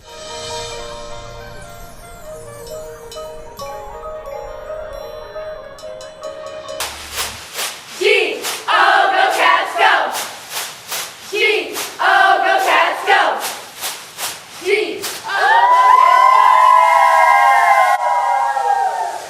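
Northview cheer team chanting and shouting in rhythmic bursts at a high school football broadcast, loud clipped group yells with claps, ending in a sustained crowd roar, after a quieter stretch of music.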